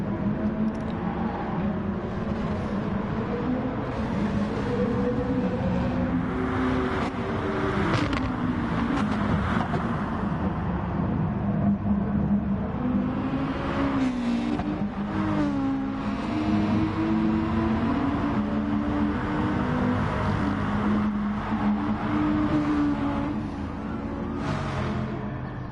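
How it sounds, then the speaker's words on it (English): Audi GT1 race cars in a sim racing game lap the Lago Maggiore circuit, several engines droning and rising and falling in pitch through gear changes, a steady close mechanical roar with no voices. "And there's that Audi drifting."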